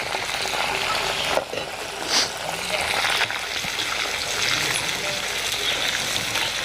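Jackfruit pieces frying in oil with the gas just switched off, a dense continuous sizzle and bubbling hiss from moisture in the fruit, close and steady with a brief dip partway through.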